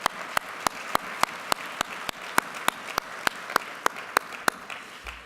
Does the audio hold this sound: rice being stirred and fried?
no